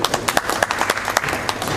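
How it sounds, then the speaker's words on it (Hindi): Audience clapping at a grand premiere of the Sindhi film "Simran" for the producer: close, brisk, fairly loud applause with distinct individual claps throughout. "तो प्रोड्यूसर के लिए भी तालियां बनती हैं।"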